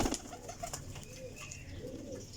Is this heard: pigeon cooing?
yes